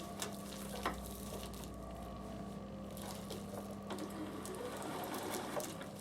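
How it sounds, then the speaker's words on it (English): Bernina sewing machine stitching a fabric flange on a small bag, a steady close mechanical whir with light clicking, running continuously at moderate volume without speech. "sew it together and sew from this side, just like I've done to the last one."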